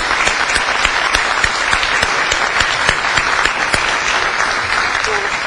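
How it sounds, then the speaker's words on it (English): A room full of staff applauds newly joined colleagues, a loud, steady roar of many hands clapping close by with occasional sharp individual claps cutting through, continuing without pause. "Let's give them all a round of applause."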